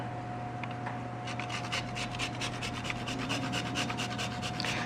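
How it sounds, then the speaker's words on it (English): Nutmeg grated over a quiche gives a quick series of close, rhythmic raspy scrapes against a steady background hum. "the very last thing I'm going to do is grate a little bit of nutmeg over the top"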